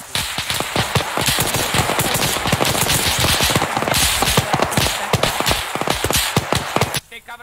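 Sustained automatic gunfire in the military shooter Arma 3, loud, fast rattling bursts layered almost without pause, then cutting off abruptly near the end, with voices talking underneath.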